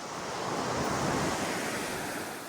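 Sea waves wash steadily onto a beach in a continuous, loud broadband roar with no distinct breaks, joined by light wind buffeting.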